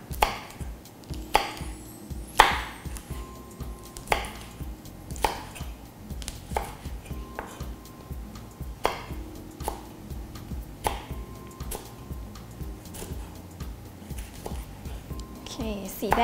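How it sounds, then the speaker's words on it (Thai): Repeated knife chops strike a cutting board in a steady, unhurried rhythm as red chili peppers are sliced diagonally, while someone talks over them. "พริกชี้ฟ้านะคะให้หั่นเฉียงๆนะคะ"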